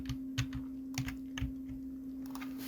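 A computer keyboard is used to press Ctrl+Z, giving a handful of soft, close key clicks in an uneven rhythm over a steady low electrical hum.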